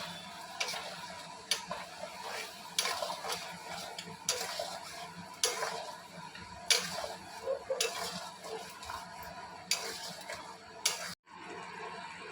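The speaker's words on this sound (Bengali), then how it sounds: "চিকেনের সাথে মশলাটা একবারে মিশিয়ে আমরা মশলাটা ফ্রাই করে নিচ্ছি" Spice masala frying with chicken in a pan is heard as a steady sizzle, with repeated sharp scraping clicks of a utensil stirring against the pan at a fairly regular rhythm, close and moderately quiet.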